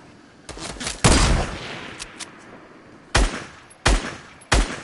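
Video game gunfire: a short rattling burst, then a loud heavy shot followed by trailing noise, and three more spaced single blasts, all close and loud with no voices.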